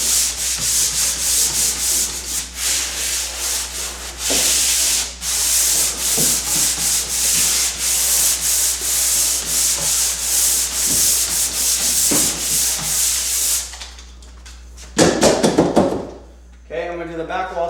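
A wall is lightly sanded by hand to smooth out paint lap marks, with a loud, close rhythmic scraping and rubbing in long strokes and a few knocks. Someone speaks near the end.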